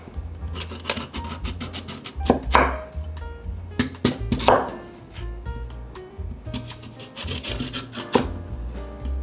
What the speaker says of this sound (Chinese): 准备切莲藕，把莲藕削皮，切成片状